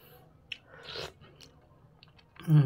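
Someone eating a home-cooked vegetable soup with fried fish, with soft close chewing and a few small clicks and slurps, quiet and without talk.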